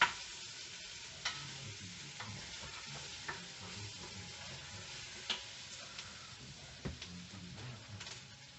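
Goulash ingredients sizzle in an Instant Pot on its saute setting, a steady close frying hiss broken by occasional sharp clicks and scrapes of stirring.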